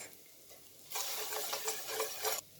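A whisk scrapes and swirls briskly through spiced tarhana soup in a pot for about a second and a half, with a rhythmic, close metallic stirring sound.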